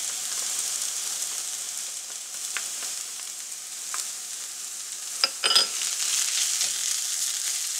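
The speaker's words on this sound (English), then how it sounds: "saute for additional 3 to 4 minutes" Onions, peppers, spinach and garlic sauté in a pan for a vegan quiche, giving a steady, soft sizzle with a few brief clinks and stirring knocks partway through.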